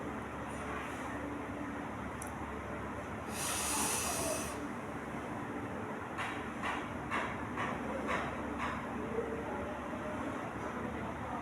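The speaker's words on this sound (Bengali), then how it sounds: "নাক দিয়ে পর্যাপ্ত পরিমাণে অক্সিজেন ফুসফুসে নেব, নিয়ে ধরে রাখবো যতক্ষণ পারি।" A breathing exercise: a deep, hissing inhale through the nose, then slower, softer, airy exhalations through the mouth, all close to the microphone over steady background noise.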